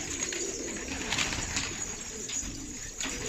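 Elvan pigeons coo softly and continuously in the background, with low burbling calls repeating amid a faint steady hiss.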